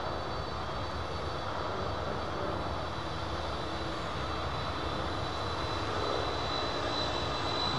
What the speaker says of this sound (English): I think this is a CF6 engine, possibly.